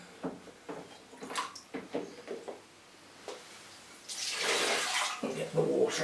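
Water from an orchid tray is poured out of a jug into a bowl, preceded by scattered knocks and handling sounds, then a steady splashing pour in the last couple of seconds.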